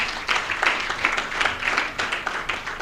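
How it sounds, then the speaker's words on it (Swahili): An audience at a business awards ceremony claps for the winners, a moderate, irregular patter of many hands that swells and dips steadily for a few seconds. "Ongereni sana washindi jamani, tuwapigie makofi tena."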